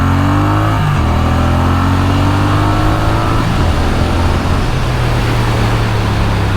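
A 2024 Triumph Bonneville T120 motorcycle's high-torque engine accelerating loudly and shifting up through the gears, with rising engine pitch broken by gear changes, recorded close while riding.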